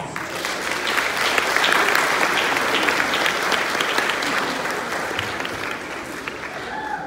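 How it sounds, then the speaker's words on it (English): Dense audience applause at a school ceremony where children move up a level, a loud, continuous wash of many hands clapping that holds steady throughout with a faint crowd murmur beneath. "You should give yourselves a round of applause."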